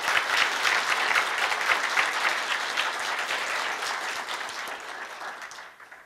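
An audience at a university honorary doctorate ceremony gives warm, steady applause for an award recipient's response speech, a dense even wash of clapping that fades out at the end.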